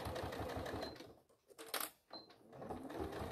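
Sewing machine stitching a faux leather clam shell pouch, close rapid needle chatter that briefly slows and pauses mid-seam before running steadily again.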